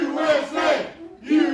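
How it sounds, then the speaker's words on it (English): A wrestling arena crowd roars loudly in support of Old Glory at a Saturday Slam show, swelling cheers rising and dipping, then surging again near the end. "you can hear the crowd very firmly"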